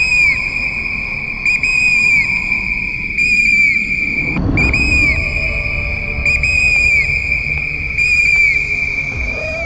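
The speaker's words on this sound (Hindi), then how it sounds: "सीटी बजाते, तेज आवाज निकालते, जितनी जल्दी हो सके हम इस इलाके से निकल जाएं।" Loud, steady whistles ring out over a forest path where bears, leopards and hyenas roam, repeating in sustained blasts with a rumbling bed and a brief gusty swell midway.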